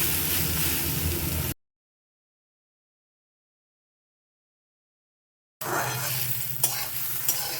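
Taro pieces fry in a pan for a small-fish chorchori, giving a steady sizzle with stirring scrapes for about a second and a half. Then comes a long silent gap, and the frying resumes with sharp clicks of a utensil against the pan.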